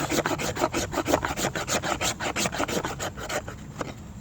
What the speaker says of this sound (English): I'm going to get the shavings.